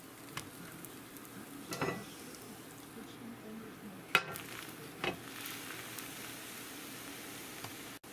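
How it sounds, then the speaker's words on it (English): Pastrami Reuben sandwich toasting in a pan, a soft steady sizzle with a few scrapes and taps as it gets flipped, under occasional talk. "flip that over, and I want you to toast the other side just as well"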